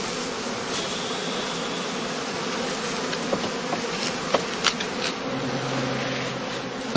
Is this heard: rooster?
no